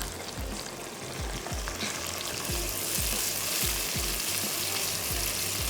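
Whole garam masala frying with ginger-garlic paste and a chicken stock cube in a pot over raised heat: steady crackling sizzle with repeated scraping stir strokes, close up and with no talking.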